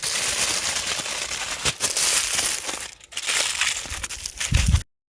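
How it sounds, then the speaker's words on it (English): Tin foil being crinkled and crushed while wrapping pre-made chimichangas outdoors, a loud close continuous crackling and rustling with a brief pause before stopping. "quick, easy, wrap it in some tin foil."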